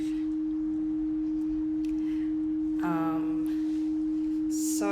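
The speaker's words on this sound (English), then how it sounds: "I'm going to turn all the effects down so you can just hear the basic sine wave" A basic synthesizer sine wave tone with all effects turned down holds steady and smooth, constant and fairly loud throughout, with brief other sounds near the end.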